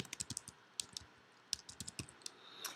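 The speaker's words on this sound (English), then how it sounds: "so I'll type certified here." Computer keyboard typing, with a quick series of close, crisp key clicks in uneven bursts and short pauses between them.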